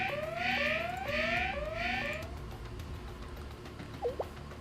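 A video game alarm blares as a series of rising, whooping siren sweeps, about five in quick succession, loud and steady before cutting off and leaving quiet background sound.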